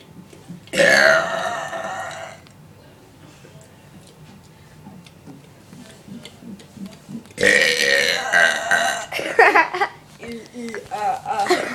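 Two long, loud burps at a New Year's gathering, the first early and the second later, with laughter and chatter from people around them filling the gaps.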